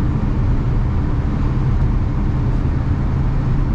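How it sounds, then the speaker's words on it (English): A 1974 Volkswagen Super Beetle cruising down a road, its steady engine and road noise droning evenly and close throughout with no pauses. "Just going to be taking this car on a short drive down the road"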